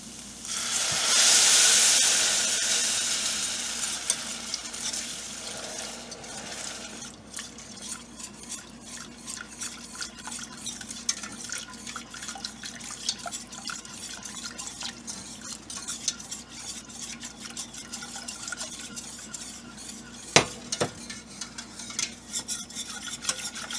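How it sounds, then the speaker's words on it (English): Milk pours into a golden roux in a hot pan for a chicken cordon bleu sauce with a loud steamy hiss, then a whisk scrapes the pan in quick, steady strokes for about twenty seconds, with one sharp knock near the end. "the next thing we're going to do is whisk in some milk"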